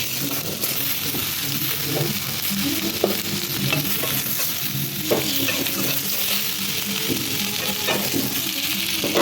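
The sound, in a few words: potatoes frying and being stirred in a pan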